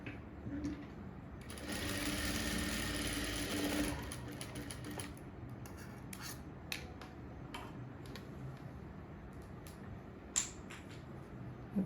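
Sewing machine stitching the front cup shape of a blouse, one loud steady run of about two seconds followed by quieter intermittent stitching and ticking clicks.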